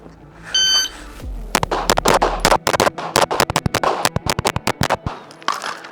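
Fast strings of loud, sharp pistol shots from an Agency Arms Alias compensated gun ring out on a range, several tight bursts of evenly spaced cracks with brief pauses between, close and alone; a short electronic beep sounds at the very start.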